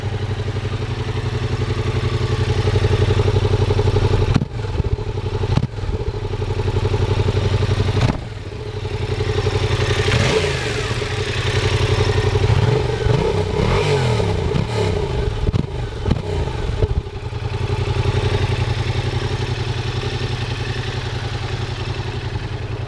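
A Yamaha XSR700 parallel-twin motorcycle idles at about 1500 RPM, a steady low throbbing drone with a few brief clunks and dips in the middle, close and alone without voices.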